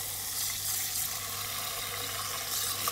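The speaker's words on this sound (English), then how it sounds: "So next naman natin gagawin is huhugasan natin yung rice." Rice being washed by hand in a basin of water for turon malagkit, a steady soft swishing and trickling wash running continuously and close up, with no talking.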